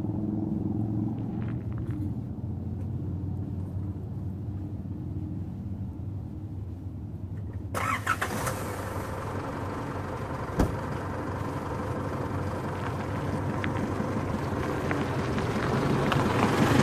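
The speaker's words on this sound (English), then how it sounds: "so we're driving now on the way to the campsite" Car driving along a dirt road toward a campsite, a steady low engine and tyre rumble under broad road noise that turns brighter and hissier partway through, with one brief knock.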